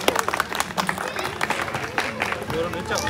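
A crowd claps for a birthday honoree at a family celebration, with a brief burst of applause mixed with chatter and voices talking over it.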